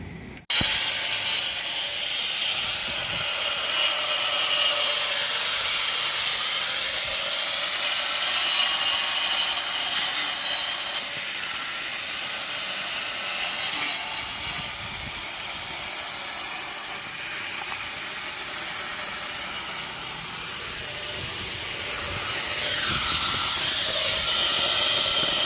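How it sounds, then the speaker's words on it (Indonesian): Angle grinder cutting along cracks in a concrete roof slab to widen them, a continuous high, gritty whine with the pitch wavering as the disc bites, close and loud with no talking. "setelah kita gerinda bagian yang retak-retak ini ya, bagian yang retak-retak sudah kita perlebar seperti ini ya"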